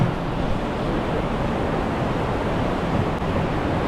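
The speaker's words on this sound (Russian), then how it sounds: "мы сейчас находимся на Салтинском водопаде" The Saltinsky waterfall in a Dagestan nature park rushes in a loud, steady, broadband roar that stays constant throughout, with no talking.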